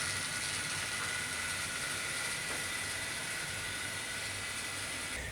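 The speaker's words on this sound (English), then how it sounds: "let's get this one up and running then for Gresley locomotive" A model LNER Gresley freight steam locomotive runs on track with a steady, unbroken mechanical whir and hiss throughout, moderately loud and without speech.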